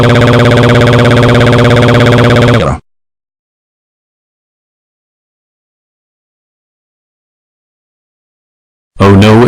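Loud, harsh electronic alarm tone in a hotel in Manhattan, blaring steadily for a few seconds, cutting to silence, then returning abruptly at full volume.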